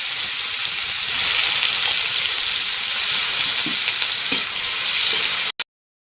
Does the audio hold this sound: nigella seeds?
yes